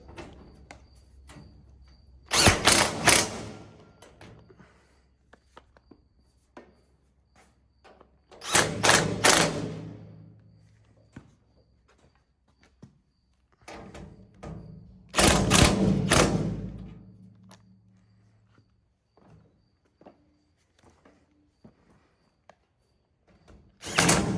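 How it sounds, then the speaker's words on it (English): Power tool work on a Gleaner R72 combine's straw spreader: three loud bursts of whirring, roughly six seconds apart, separated by quieter clanks and taps, close by with no speech. "Now that one I may have to take and put a wrench on the other end"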